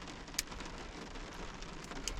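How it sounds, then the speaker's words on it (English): Soft steady rain pattering on a truck during stormy-weather camping, a dense even hiss heard from inside with occasional sharper drips standing out. "It's raining, so I can't even open the windows for a breeze."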